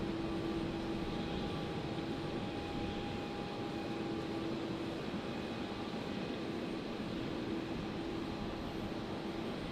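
Steady aircraft engine roar at Brisbane Airport in the evening, a continuous distant broadband rumble with faint tonal whine holding level throughout, no talk.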